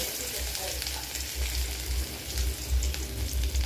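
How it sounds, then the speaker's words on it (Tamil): Mustard seeds, chana dal, urad dal and ginger sizzle in hot oil in a kadai while upma is cooked, giving a steady crackling fry with a low rumble beneath and no voices. "வானலியில் எண்ணெய் ஊற்றி கடுகு போட்டுக்கணும்"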